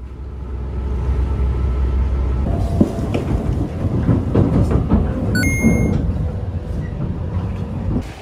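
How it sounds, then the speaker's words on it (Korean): Inside a Komachi train carriage, a steady loud rumble of the moving train fills the space, with clattering and a brief sliding-door movement midway, then a short electronic chime and tone before the rolling noise continues. "다자와코로 가는 열차는 12번 정류장에서 고마치 열차를 탑승했다."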